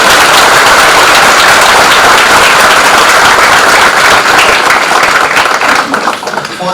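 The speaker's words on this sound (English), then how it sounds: "First, let's give a big round of applause" A large audience at a college inaugural ceremony breaks into a big, loud round of applause, dense sustained clapping that fills the hall and thins slightly toward the end.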